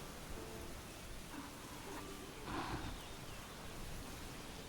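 Steady broadband rain hiss in the Manor Lords game, a constant wash of falling drops with a brief swell in the middle, no voices.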